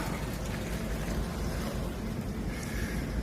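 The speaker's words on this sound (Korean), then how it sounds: "물 나오잖아. 이제 물 나오는 거야." Water gushes from a drain during high-pressure sewer cleaning with a pump truck. It is a continuous, broadband rushing wash, fairly faint and steady, with no speech.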